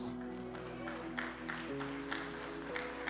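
A church congregation claps together in a steady wash of applause. Sustained tones play underneath it, along with some background voices.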